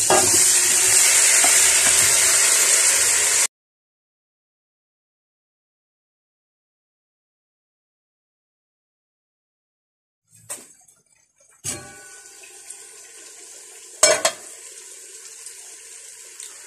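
Potatoes, tomatoes, chicken and chillies hit hot oil for a biryani, giving a loud, dense sizzle for a few seconds that cuts off abruptly. After a long silence come scattered clatters, splashes and running-water noise.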